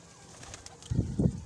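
Pigeons kept by a breeder give a couple of soft, low cooing calls close by after a quiet start, each a short throaty burst.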